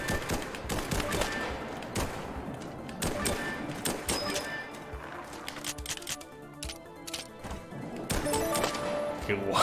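Rapid gunfire in the Rollerdrome video game crackles in dense bursts of sharp shots over game sound, loud and continuous across the whole stretch, with short gaps between volleys.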